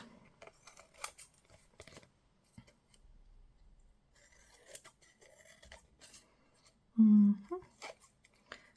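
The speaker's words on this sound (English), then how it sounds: "now let's cut around" Scissors cutting around a paper napkin for a journal, giving sparse close snips and paper rustles against quiet, followed by a brief louder thump and some rustling.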